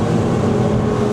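XO DSCVR 9 T-Top boat with a V10 400 hp outboard running at speed through waves, a steady loud broadband engine and hull roar with water rush close to the microphone, no voices.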